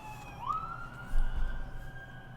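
Ambulance sirens wail faintly in the distance, a thin rising tone that steadies and holds under low background rumble.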